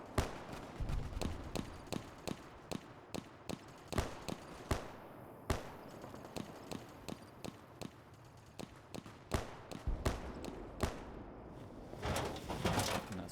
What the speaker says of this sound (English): And that's gunfire on both sides.